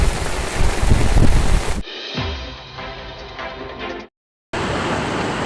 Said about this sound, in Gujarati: અઢી વાગ્યાનો એક ધારો વરસાદ પોરબંદરના રાણાવાવમાં